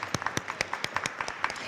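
An audience at a school board meeting claps in an even, moderately loud round of applause that continues throughout without any talking over it.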